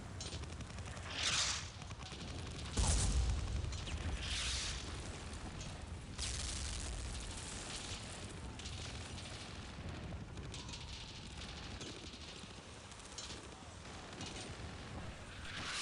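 A computer-controlled bot opens fire on an enemy player in a shooter video game, giving several short, faint bursts of gunfire spaced a few seconds apart over a low, quiet background.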